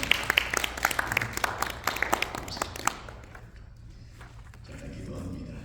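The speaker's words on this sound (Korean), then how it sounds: "모든 어머님들께 감사의 박수 한번 올려드리면 좋겠습니다" A church congregation claps together in a burst of applause that fades out after a few seconds, leaving a quiet room murmur.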